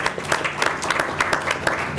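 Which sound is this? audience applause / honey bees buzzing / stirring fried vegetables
audience applause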